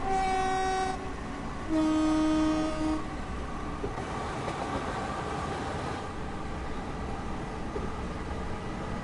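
A train in the Train Sim World 2 video game sounds two clear horn blasts, the second longer, over a steady rumble of rail noise as it passes.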